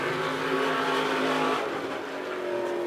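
Late model race cars at Lebanon I-44 Speedway roar past with steady loud engine drone and rising revs, a sustained dense racing-engine sound with a harmonic whine throughout, no talk.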